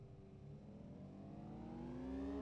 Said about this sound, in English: the engine sounds are like vacuum cleaners